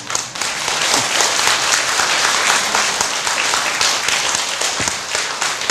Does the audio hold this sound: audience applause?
yes